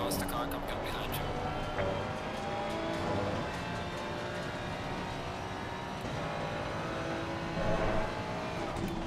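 Race car engines in Assetto Corsa Competizione at Laguna Seca, a sustained engine drone with shifting pitch as a faster car closes in from behind and swells briefly near the end, with a voice talking over it.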